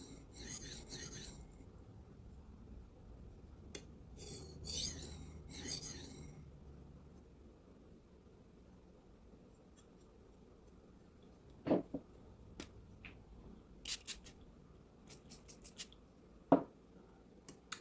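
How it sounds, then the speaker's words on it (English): A Zmaxx PM steel knife is drawn across a diamond sharpening plate for a coarse edge, giving a series of close, dry, file-like rasping strokes in rhythmic bursts, followed by quieter gaps broken by sharp little scrapes and ticks. "when you're sharpening one on a diamond plate like this, it's almost like running a file across a hard piece of steel"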